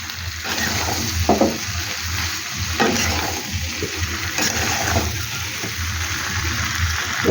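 Spiced jackfruit curry stirred and fried in a pan, a continuous close sizzle with scraping spoon strokes and occasional knocks against the pan.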